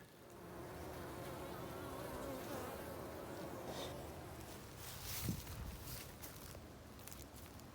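Honeybees swarm around an opened hive while it is being inspected, giving off a dense, continuous buzz of many insects close by, with a few brief louder swells and some soft handling noises, and no one speaking.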